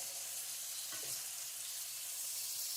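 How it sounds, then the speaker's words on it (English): Venison burgers sizzle steadily in a hot pan, a continuous loud hiss with a brief soft clink early on. "Hear that sizzle?"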